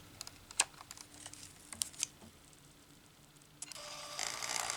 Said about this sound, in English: it works fine, but it does have a very loud autofocus motor.